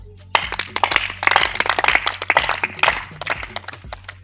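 Audience clapping at a wedding comedy show, a burst of applause starting abruptly and continuing with dense, uneven claps throughout, fairly close and loud, with some crowd noise mixed in.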